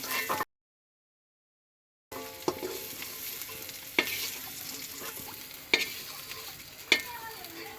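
Small potatoes fry in a pan with a steady sizzle, broken by several sharp clicks of a utensil stirring against the pan. A short stretch of silence comes near the start.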